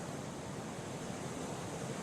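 A waterfall heard from behind rock in the cave levels of the video game Kholat, a steady broadband rushing roar, muffled and even, with no other sounds.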